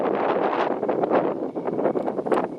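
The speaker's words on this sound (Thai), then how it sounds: "ก็ได้ยินเสียงลมด้วยนะครับ ตอนนี้ลมเย็นสบายเลย" Strong wind gusting over a mountainside at night, buffeting the microphone in a steady loud roar with shifting rustling surges throughout, no voices.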